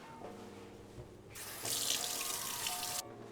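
A kitchen tap runs as cornmeal coating is washed off hands, a faint trickle building into a loud, steady gush of water into the sink for over a second before it shuts off.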